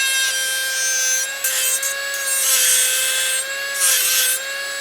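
A dental trim burr bevels the edges of an acrylic complete denture with a steady high-pitched handpiece whine and bursts of close, scratchy grinding as it traces along the edge.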